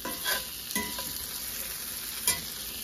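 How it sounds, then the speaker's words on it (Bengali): Chicken fries in a pan with a soft sizzle as a utensil stirs it, a few scraping knocks standing out over the steady hiss. "আর দেখুন আমার চিকেনটা কিন্তু অলমোস্ট ভাজি হয়ে এসেছে।"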